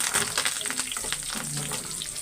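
Mustard seeds, cumin, chili and curry leaves sizzle and crackle steadily in hot oil for a tempering, close and loud, with a few stirring scrapes and no talk.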